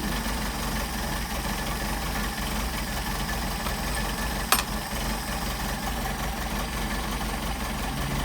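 Engine idling steadily through twin Solex 44PHH carburetors, a constant low rumble with a faint mechanical tick, close and even throughout, with one sharp click about halfway.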